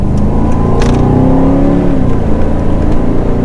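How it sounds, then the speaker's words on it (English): Volvo S80 with its V8 engine accelerating hard in a launch, heard from inside the car as a loud, steady engine roar whose pitch climbs as it pulls. "now we have an opportunity to do a little bit of a launch"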